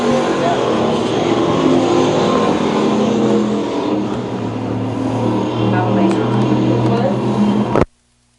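Factory stock race cars roar around the oval at Lakeside Speedway during an A main, a loud continuous engine drone over crowd and announcer voices that cuts off abruptly near the end.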